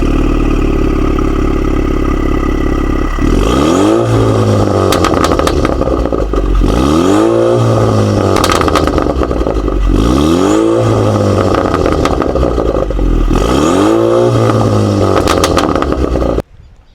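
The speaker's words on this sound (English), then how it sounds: "it has a quite nice bubbles that sounds very nice while driving when the valve is on" A Jeep Wrangler Rubicon with a custom full-system exhaust and its valve open revs loudly and close, rising and falling in four repeated throttle blips over a deep, burbling idle, with no voices.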